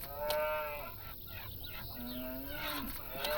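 Farm animal calls from the Farm Manager 2018 farming game, a string of honking, goose-like squawks with harmonic tone and a lower lowing call near the end, heard alone and fairly close against steady ambient background.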